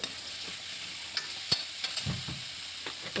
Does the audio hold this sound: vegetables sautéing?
yes